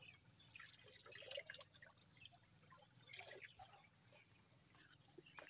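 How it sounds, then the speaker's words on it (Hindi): Water from a natural mountain spring in the Margalla Hills trickles and runs steadily nearby, a soft, continuous burbling flow heard alone without talk. "ये सारा पानी चल रहा है"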